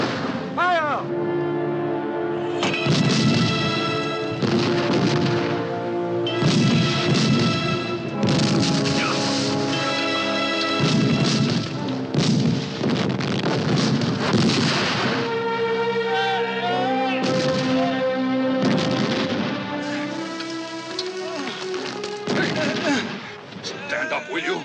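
War-movie battle with repeated booming artillery and gunfire bursts, dense and loud, mixed with shouted voices and music-like tones throughout.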